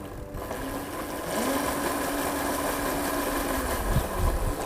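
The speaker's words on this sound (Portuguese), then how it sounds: "Biel, mostra aqui a roda, vou dar uma acelerada." An electric mid-drive bicycle motor, run on throttle only with no pedal assist, whines steadily while revving up, holding a droning mechanical hum with a slight rise and vibration throughout, close and alone.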